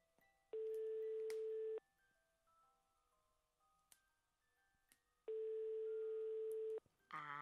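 Repeated telephone call tones: two long steady electronic tone bursts of about a second each, separated by a quiet gap, with faint background sound and a brief higher tone at the end.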